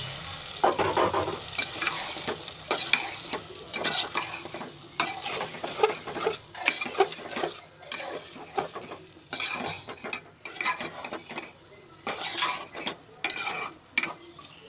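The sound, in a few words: sautéing Malabar spinach seeds and potato in spice paste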